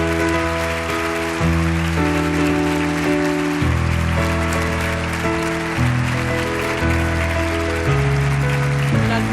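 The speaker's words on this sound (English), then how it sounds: "Let's have a huge round of applause for the 2019 MotoGP World Champion" Large crowd applauding at the 2019 FIM MotoGP awards ceremony for the MotoGP World Champion, a loud, steady wash of clapping lasting throughout with music tones sustained underneath and no voices on top.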